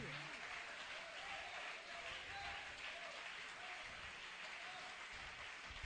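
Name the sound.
church congregation applauding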